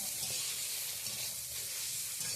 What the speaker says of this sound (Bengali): একটুখানি নাড়াচাড়া করে ভেজে নেব।